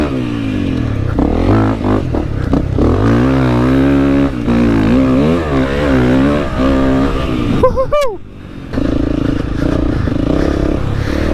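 A Honda CRF250L dirt bike ridden through a sandy loop section, its single-cylinder engine loud and close, revving up and down in repeated surges with a sharp rising whine near the end before pulling away again.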